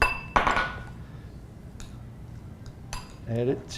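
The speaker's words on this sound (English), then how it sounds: "Then we're going to take a spoon and kind of mix it up" A spoon clinks against a bowl while mixing vegetables and mayonnaise: a few scattered metallic taps and scrapes, close and fairly sharp, with a faint voice near the end.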